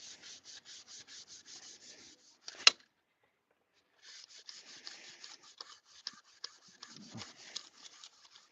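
A Scotch-Brite pad rubs a surface in quick, even rhythmic strokes, about a dozen close scrubs, then a brief knock and a pause before another run of rubbing strokes, quiet and up close.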